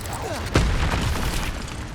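A single sharp burst from the Expelliarmus disarming spell cast in Hogwarts Legacy, a sudden loud crack followed by a rumbling tail over steady game ambience.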